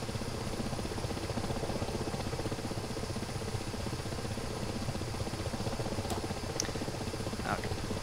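A KA-50 helicopter in the DCS flight simulator flies with a steady, continuous rotor and engine hum at a moderate, even level, with no pauses.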